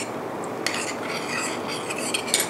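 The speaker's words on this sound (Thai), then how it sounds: "ตอนนี้นะคะนมก็เดือดดีแล้วเราก็ละลายแป้งข้าวโพดกับน้ำนะคะผสมกัน" Cornstarch dissolved in water is stirred for a corn pie: a utensil makes quick, light scraping clinks against its container, close by and fairly quiet, with no voices.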